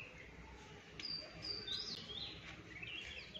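Small birds chirp near a water dish set out for them at a rural Indian home, with brief high tweets scattered over a steady background hum, faint and somewhat distant.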